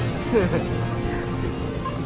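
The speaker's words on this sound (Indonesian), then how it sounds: "Hujan nih" Steady rain falls with an even, continuous patter that fills the whole stretch, loud and close, with no clear voices above it.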